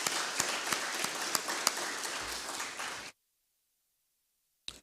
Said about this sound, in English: I would request you for a warm round of applause for